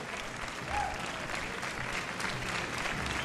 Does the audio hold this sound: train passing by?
no